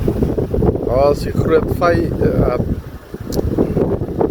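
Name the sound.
wind blowing over the microphone near a river mouth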